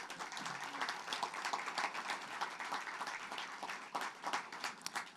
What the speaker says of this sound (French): On applaudit Neil.